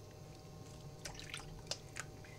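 Honey mushrooms are scooped out of ice-cold water into a draining strainer, with a few faint drips and small splashes at scattered moments over a quiet background.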